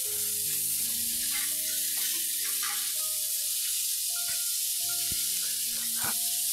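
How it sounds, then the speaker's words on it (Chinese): Potatoes and pork belly sizzle steadily as they pan-fry in a wok, a loud constant hiss with occasional stirring clatter, while tonal background music plays. "我哋慢慢嚟，煎到一边有色，基本上咧，等间咧，我哋可以炒一炒佢就 OK 啦"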